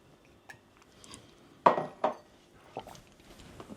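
Dishes and cutlery clink and knock together in a kitchen, a few sharp close clatters spaced irregularly against a quiet background, with no talking.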